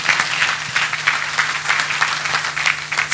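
Sustained applause from a church congregation, continuous clapping over a faint low electrical hum.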